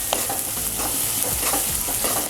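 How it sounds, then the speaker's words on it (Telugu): Onions, green chillies and ginger garlic paste fry in a pan, a dense, steady sizzle with brisk scraping strokes of a stirring spoon close by. "ఇవంతా ఉల్లిపాయలు, పచ్చిమిర్చి, అల్లం వెల్లుల్లి పేస్టు పచ్చివాసన పోయే వరకు కొంచెం ఫ్రై చేసుకుందాము"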